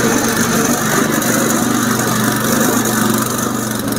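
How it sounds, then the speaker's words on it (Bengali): A 7hp Honda engine powers a trolley, running with a loud, steady, unbroken drone that stays close and even. "এবার আমি আস্তে আস্তে যাবো তখনই আমার ইঞ্জিনটা"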